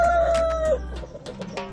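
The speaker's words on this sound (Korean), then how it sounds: "암탉들 중 한 마리는 캔디가 자신들의 닭장에 온 게 마음에 안 드는지 닭장 밖으로 쫓아내버린다." Chickens in a backyard coop, with a rooster crowing loudly up close and hens clucking around it, all in a short burst.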